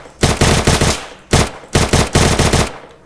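Gunfire in a Minecraft Free Fire mode match: rapid automatic bursts in several loud, close volleys separated by short pauses, with no talking.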